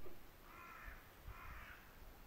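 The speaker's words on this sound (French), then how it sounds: "la compagnie d'un corbeau là, qui n'arrête pas de jacter" Crow cawing twice in a row from some distance, faint and hoarse over quiet outdoor background hiss at a lookout spot.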